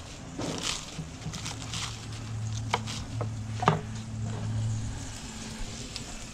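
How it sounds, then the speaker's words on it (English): A knife rough-chops choy sum on a board outdoors, giving a series of irregular, fairly close chopping thuds over a low steady hum. "Rough chop."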